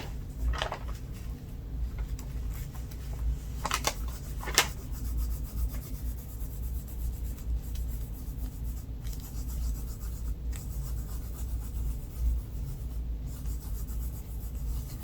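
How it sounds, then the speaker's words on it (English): Loose glitter is rubbed off a tacked wood piece with a steady, close, gritty rubbing that continues throughout, joined by a few sharp ticks and scratches. "any of this glitter that I'm rubbing off can also be put right back in your glitter container"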